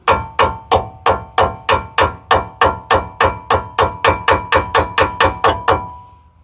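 About twenty quick, evenly spaced metallic hammer taps strike a truck's front suspension part from below during a lift install, loud and close with a faint ringing after each blow, no talk.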